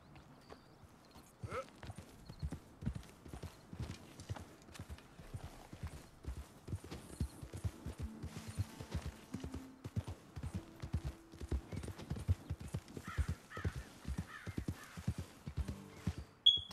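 Shire horse hooves in Red Dead Redemption II clip-clop at a steady, even walking rhythm, moderately close and fairly quiet, with a brief bird call and faint background tones.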